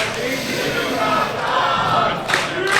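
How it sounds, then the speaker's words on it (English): Crowd at a live pro wrestling event roars and cheers continuously, a dense wash of voices filling the arena throughout. "I just want to hear the crowd here."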